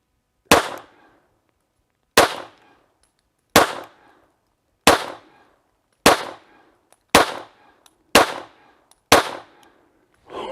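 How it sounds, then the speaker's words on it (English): Shots from a Colt Model 1903 Pocket Hammerless pistol at an indoor range from about 7 yards, eight loud, sharp reports spaced roughly a second or more apart, each with a short decaying tail. "Let's put some rounds down range."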